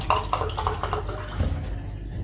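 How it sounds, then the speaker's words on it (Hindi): Water poured into a cooking pot for pressure-cooked pea keema, splashing and trickling for about a second and a half before fading to quiet, with no voices. "अब मैं इसमें डालूंगी पानी 2 गिलास"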